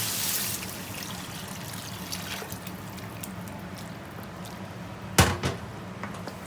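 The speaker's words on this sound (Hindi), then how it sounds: "अब उसमें हम पानी ऐड करेंगे दाल को गलाने के लिए।" Water pours into a pot of chicken chana daal cooking over a high flame, a steady splashing trickle with a brief louder splash near the end.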